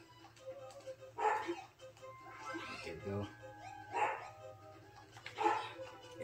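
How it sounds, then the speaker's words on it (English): A dog in the video game Klonoa: Empire of Dreams barks in repeated bursts at a steady rhythm over game music, while someone speaks briefly. "He starts barking and he doesn't stop barking."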